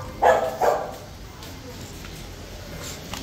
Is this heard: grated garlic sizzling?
no